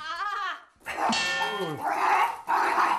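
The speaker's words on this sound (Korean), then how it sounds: "이때 심하게 짖으며 몸부림치는" An aggressive, poorly socialized dog barks fiercely and thrashes indoors. Loud, harsh barks and yelps fill the clip, broken by one short pause.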